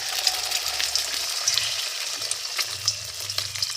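A country chicken egg frying in a pan on low flame gives a close, even crackling sizzle with faint low rumbles underneath and no talk.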